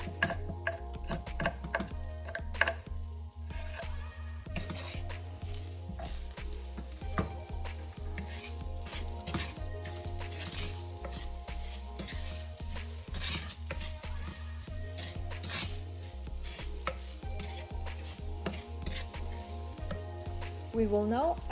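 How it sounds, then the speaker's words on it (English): Chopped garlic sautéing in a pan with melted brown sugar for a Korean beef stew, a soft steady sizzle with intermittent stirring scrapes and light clinks of utensil on pot. "we can now add the chopped garlic and continue sauteing"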